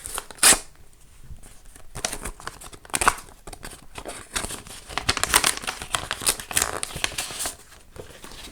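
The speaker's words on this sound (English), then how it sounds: "Let's go ahead and open the card." Paper crinkling and tearing as a Halloween greeting card envelope is opened, with a sharp rip near the start and irregular rustling and crackling bursts throughout, close and fairly loud, no talking.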